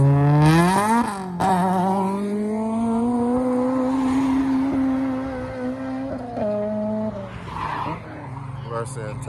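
Honda RSX and Acura Integra with K-series engines, making about 260 and 250 horsepower, launch in a drag race with a loud rising engine roar that holds strong and steady for several seconds before fading away.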